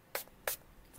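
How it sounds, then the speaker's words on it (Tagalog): Two short, crisp hisses from a makeup setting spray, Ushas Make It Last, pumped about a third of a second apart, close and clear against a quiet room, without speech. "So spray na natin siya."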